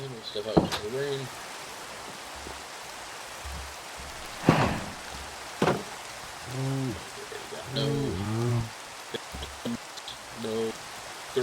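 Steady Minecraft rainfall forms a soft, even hiss, broken by a few sharp cracks and intermittent tonal, humming game sounds that rise and fade.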